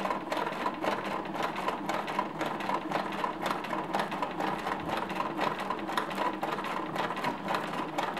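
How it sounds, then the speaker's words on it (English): A sewing machine runs steadily while stitching a knit V-neck neckband onto a T-shirt, a fast continuous mechanical whir and clatter at even speed throughout. "I'm going to lift up my presser foot and shift the entire thing so I can sew the other side"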